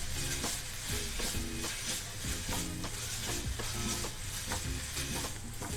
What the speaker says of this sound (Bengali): দেখুন এটা নাড়তে নাড়তে